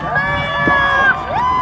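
Campers at Lourdes Camp cheer on a long-distance swimmer from the shore, a brief burst of loud, mixed crowd shouting and voices.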